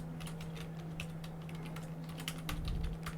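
Fingers typing on a computer keyboard in a steady run of light clicking keystrokes, close and fairly quiet over a constant low electrical hum, with no talk.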